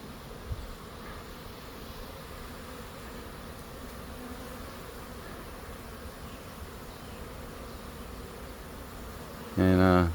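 A swarm of honey bees drones steadily as it flies into a swarm trap, a dense continuous buzz close by, with a brief louder burst near the end.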